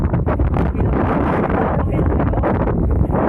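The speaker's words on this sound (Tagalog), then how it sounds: "Ang lakas ng hangin." Strong wind at People's Park in the Sky, Tagaytay City, roars and buffets the microphone continuously, a heavy rushing gust with no pauses.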